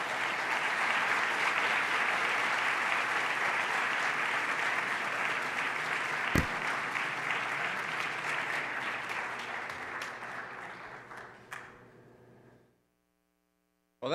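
A lecture audience claps steadily for about twelve seconds, a dense broadband patter that thins out and stops, with a few scattered final claps near the end.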